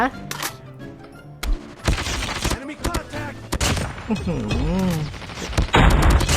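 Rapid bursts of gunfire in the mobile shooter game Call of Duty Mobile, loud and close, crackling in repeated volleys mixed with game effects and a voice talking over the action.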